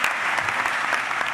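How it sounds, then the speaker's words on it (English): Audience at a college freshman convocation breaks into dense, steady clapping that fills the hall, close and continuous with no voices over it. "You can clap for the freshmen."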